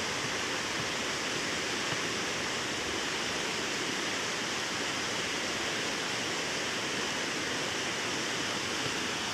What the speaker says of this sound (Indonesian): Kita lihat ini aliran sungai mengarah ke tanaman bambu yang sedang kita tanam.